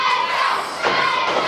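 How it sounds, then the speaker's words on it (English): Packed wrestling crowd at an NWA show at 324 Neville Street shouts and cheers loudly in a dense, continuous roar, with scattered higher yells and a few dull thuds from the ring. "Listen to that crowd here at 324 Neville Street."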